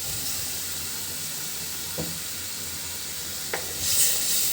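Lentil batter sizzles in hot oil while it is stirred into cooked-down spices for a potato-lentil dish. A steady hiss of frying runs throughout, with a couple of faint scraping knocks from the stirring.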